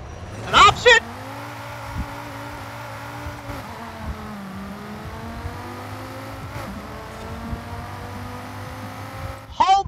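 A 2013 Dodge Viper Anniversary Edition V10 in Forza Horizon 5 runs at a steady drone with gradual pitch shifts, bracketed by brief loud bursts near the start and end.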